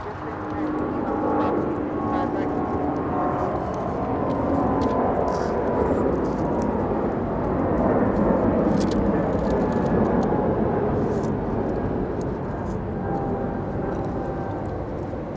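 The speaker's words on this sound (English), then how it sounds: "Big 777 United Airlines, now a departure, flying to Dallas, Washington" A United Airlines Boeing 777 departing Los Angeles International Airport, producing a continuous loud broadband jet roar that swells slightly midway and holds steady, with a voice talking over it.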